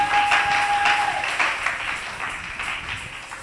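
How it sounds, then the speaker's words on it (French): A church congregation gives loud, sustained applause and cheers for the great king during a service. The dense clapping swells at first, then gradually thins and fades, with faint crowd voices mixed in. "Acclamez pour le grand roi."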